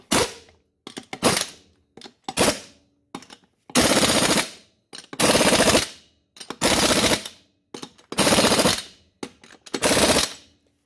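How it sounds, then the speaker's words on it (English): A Snap-on pneumatic impact gun tightening lug nuts on a C10/K10 pickup's wheel hub, firing in loud, close rattling bursts of about a second each, separated by short pauses, with no talking. "the impact gun, this is a snap-on impact gun. It's capable of putting out well over 300 foot-pounds of torque"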